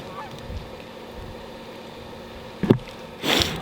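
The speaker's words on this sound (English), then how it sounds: "Here are the geese." Geese honking near a frozen lake during a duck hunt, a few brief calls rising over steady outdoor background noise, with a louder burst of honks near the end.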